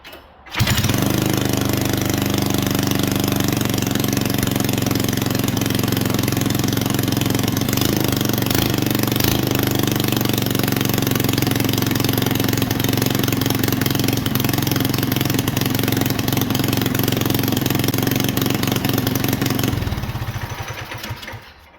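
A 1979 Chrysler Sno-Runner snowmobile engine, custom built, fires up and idles loud and close with a steady, slightly rough rumble for about twenty seconds before shutting off.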